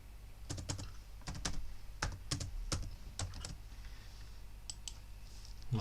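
Someone types a password on a computer keyboard, producing a close, quiet run of irregular key clicks in short bursts that trail off into sparse taps, with no talking.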